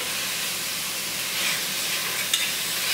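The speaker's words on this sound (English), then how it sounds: "I am going to take a new spoon and mix it all together" A spoon stirs and breaks up ground beef sizzling in a pan, producing a steady hiss with faint scraping and a small knock near the end, without any talking.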